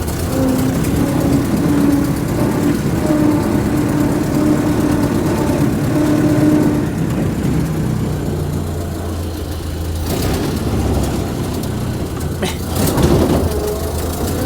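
A 1929 Ford AA tow truck engine runs with a steady, rough mid-pitched rumble, close by, with a few louder revs and clunks near the end.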